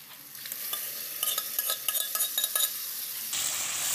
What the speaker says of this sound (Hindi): अभी हम इसमें दाल डालते हैं अपनी।